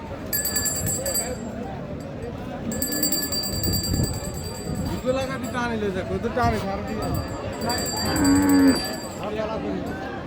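Sahiwal dairy cows low and moo at a busy cattle market, drawn-out calls rising over steady crowd chatter and people talking nearby, with an electronic ringing tone cutting in and out.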